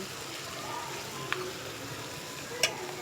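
Whole village-chicken liver fries in oil with a steady, close, hissing sizzle as it is stirred, and two sharp utensil clinks stand out against the bubbling.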